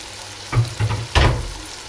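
Carrots tipped into a hot pan of frying vegetables for pasta, with capsicum already cooking: three short bursts of sizzle and clatter as they land, the last the loudest, fading back to a steady low hiss.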